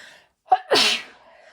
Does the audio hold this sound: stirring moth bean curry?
no